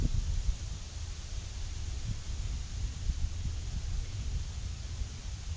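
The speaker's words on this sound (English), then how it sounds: "we wait for the wind to die down" Wind blows steadily outdoors, a continuous low rumble buffeting the microphone with a soft rustling hiss, moderate in level and without voices.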